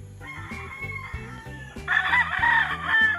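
Battle-stag roosters on a gamefowl farm crow loudly and close by, with a long crow rising over quieter clucking and rhythmic low calls.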